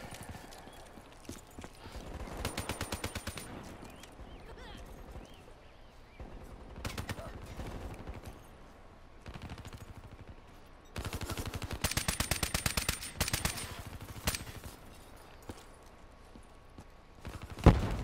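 Bursts of automatic gunfire in Call of Duty Black Ops III, some distant and some closer, arriving in clusters over a steady background of game noise.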